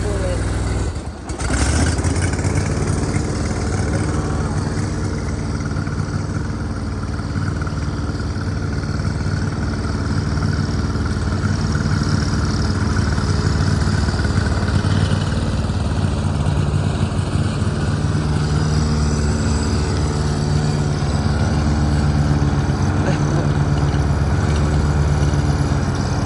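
A riding lawnmower engine runs steadily and close by, a continuous mid-pitched drone with a strong low hum that holds for the whole stretch after a brief thump at the start.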